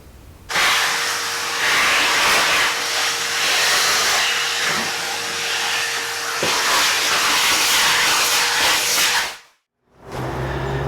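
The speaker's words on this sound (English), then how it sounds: "Just need a bit of a tidy up with the hoover." A vacuum cleaner runs loud and steady for about nine seconds while tidying up during a bathroom refresh, then cuts off abruptly before a brief restart.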